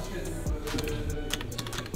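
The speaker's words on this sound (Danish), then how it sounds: "Og så vil jeg taste et ordernummer her" Fingers tap an order number into a keypad on an electronics store terminal, a quick run of light, uneven clicks close by in a room with faint background hum.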